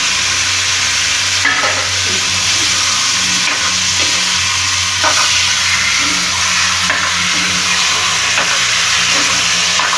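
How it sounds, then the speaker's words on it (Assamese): Chunks of taro and green peas dusted with turmeric sizzle in a hot pan, a continuous hissing fry with intermittent stirring clatters, close and even throughout. "এইখিনি এতিয়া ভাজিব লাগিব"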